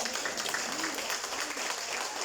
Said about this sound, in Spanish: Yo creo que eso se merece un aplauso, ¿verdad?